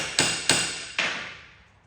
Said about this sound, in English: I've hammered my Torx bit into the head of the bolt.